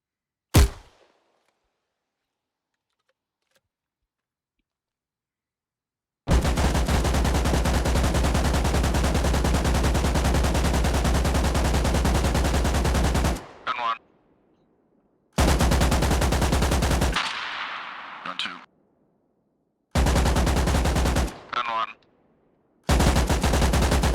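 Machine guns fire in turn along a firing line on a range, loud and close, in long sustained bursts that roar for seconds at a time. Short silent gaps and brief choppy stretches fall between the bursts.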